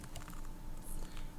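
Typing on a computer keyboard while web page code is entered, a steady patter of soft, close key clicks running through the whole short stretch.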